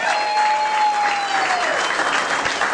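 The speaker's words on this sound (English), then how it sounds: "Give a warm round of applause." Steady applause from a large crowd, dense clapping that holds throughout, with a faint sustained tone running beneath it early on.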